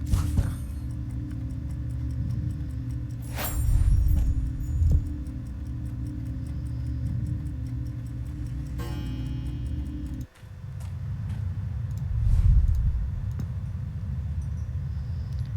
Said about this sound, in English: And a clock.